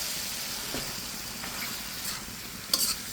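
Malabar spinach stir-fried in a pan with fish nearby, a faint steady sizzle broken by a few soft spatula scrapes and one sharper clack near the end, with no voices.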